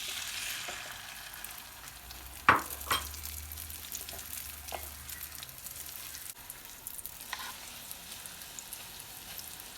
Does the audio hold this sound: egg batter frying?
yes